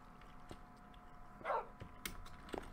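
A dog in the Minecraft video game gives a single short, faint bark in the middle of an otherwise quiet stretch with a few soft clicks.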